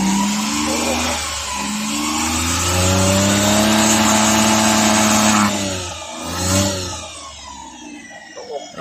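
Overhauled 12-valve Suzuki Multicab F6A engine revving hard and close, a sustained mid-pitched roar that rises and falls, briefly dips and surges again near the end.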